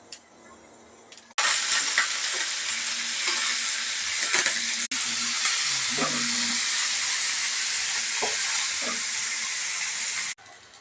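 Chopped vegetables drop into hot oil with cumin and urad dal for a palak tomato fry, setting off a sudden loud, steady sizzling hiss that runs for several seconds with faint stirring clicks before cutting off.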